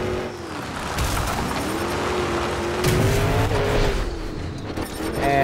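Monster truck engines in a race in the Monster Jam Showdown video game: a steady, droning, rising and falling engine whine with occasional tire squeal, sustained throughout with little talk.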